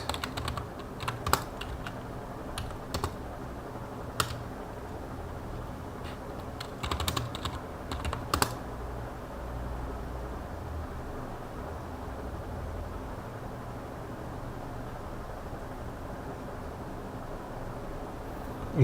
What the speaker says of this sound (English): me typing the key using the keyboard, me being too aggressive with the keyboard